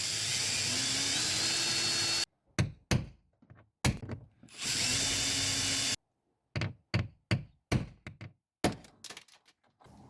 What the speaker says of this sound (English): I just want to drill the head off it